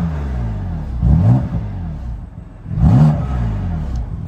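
A 2020 BMW F83 M4 engine revs hard twice in its louder M2 exhaust mode, each surge swelling into a loud, throaty exhaust roar before settling back to a rumbling idle.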